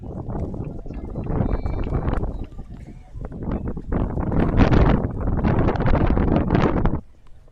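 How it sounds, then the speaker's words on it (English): Heavy wind buffets a camera microphone at an outdoor college tennis court, a loud continuous roar that surges and rolls for several seconds, then suddenly drops away. "That wind picking up at Columbia. You can hear it in the camera."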